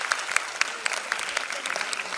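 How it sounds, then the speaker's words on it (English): An audience at a school annual day gives a round of applause for two competitors, brisk scattered clapping at moderate volume from a crowd in a hall. "a round lot of applause for both of these competitors here"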